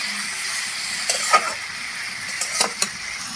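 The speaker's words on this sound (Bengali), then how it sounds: "লবণ হলুদ দিয়ে ভালো করে একটু নাড়াচাড়া করে নেব" Pumpkin leaves with salt and turmeric are stirred in a pan as they cook in their own released water, giving a soft steady sizzle with a few scraping strokes of the spatula near the end.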